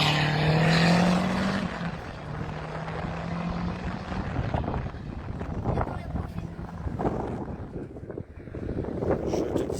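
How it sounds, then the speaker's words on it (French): Strong wind buffets a fur-covered microphone at a car rally stage, a loud, continuous low rumble with gusting swells, and a faint engine drone underneath at the start. "Parce qu'il y a énormément de vent, j'ai mis la moumoute"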